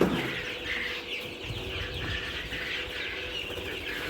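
Chickens in a poultry farm shed, including two-day-old chicks, cluck and chirp steadily at moderate distance, with a continuous murmur of birds throughout and no talking.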